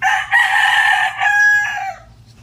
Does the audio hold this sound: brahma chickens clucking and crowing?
yes